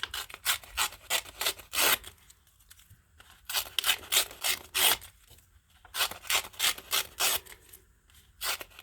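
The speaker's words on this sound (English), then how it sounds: "And I'm going to tear this into strips." Magazine pages are torn into strips by hand in quick bursts of rasping, ripping strokes, close and crisp, with short pauses between the sets of tears.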